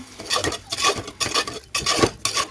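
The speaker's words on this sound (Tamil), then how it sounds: "தக்காளி போட்டு நல்லா வதக்கி விட்டேன்" Chopped tomatoes sautéed in a pan for mutton keema, with a spoon scraping and stirring in quick irregular strokes and clinks of metal against the pan, close and fairly loud over a faint sizzle.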